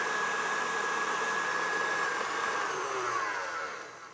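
A stand mixer fitted with a paddle beats buttercream frosting, giving a steady, loud motor whir with a faint tonal whine that runs continuously before easing off at the end; no one speaks.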